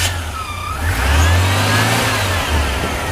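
A 1975 Jeep DJ5 engine cranks, catches and runs, rising into a loud, close, steady mid-pitched idle with a slight rev.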